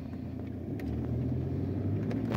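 A car driving along a hill road, a steady low engine and tyre rumble that stays close and even throughout, with no talking over it.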